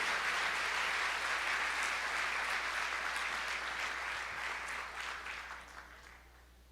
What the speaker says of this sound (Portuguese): Você pode aplaudir o Senhor enquanto eu refresco?